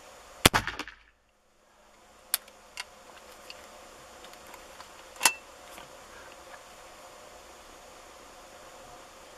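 A sharp, loud crack from a Gallager .54 percussion cap carbine right at the start, then near silence with a few faint ticks and one more small snap midway.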